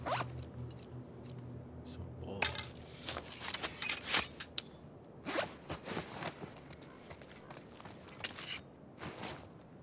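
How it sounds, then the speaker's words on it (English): Item pickup in The Last of Us Part 2 video game as scissors are collected: a quick series of close rustling, zipper-like scrapes and small metallic clinks in bursts, fairly quiet, with no talk. "Look, I just picked up some more scissors."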